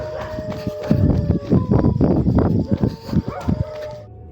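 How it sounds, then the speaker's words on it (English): A horse gallops past on an empty street at night, a rapid run of heavy, uneven hoof thuds that swells loud, then thins into a few scattered beats before falling quiet. "It's like a horse just galloped past him."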